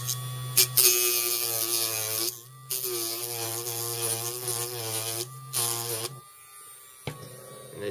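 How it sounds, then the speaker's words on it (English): A Dremel rotary tool cutting into the plastic leg of a Transformers Blaster toy whines in a high, buzzing drone in several bursts of a second or two, close and loud, with short pauses between cuts. "So, we're going to take our Dremel."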